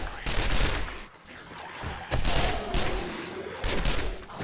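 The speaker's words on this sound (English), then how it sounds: "I hear a lot of shooting." Gunfire in the video game 7 Days to Die during a multiplayer special infected quest: rapid, loud bursts of shots in clusters, with players talking over the shooting.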